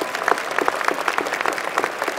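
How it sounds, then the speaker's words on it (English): A commencement crowd at the A. James Clark School of Engineering winter ceremony gives a round of applause for a graduate: dense, even clapping from a large audience, moderately loud and continuous. "let's give her another round of applause for that step"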